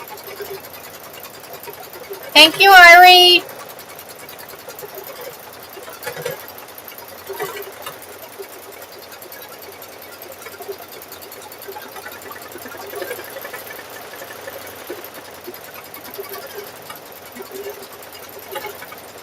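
A sewing machine stitching a quilt, with one short, loud burst of rapid stitching near the start, followed by a quiet room with occasional soft talking.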